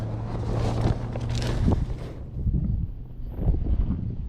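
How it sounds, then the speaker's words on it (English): Wind gusting outdoors beside Big Timber Creek, loud rumbling buffets across the microphone that ease briefly and then swell again. "Plus the wind's picking up."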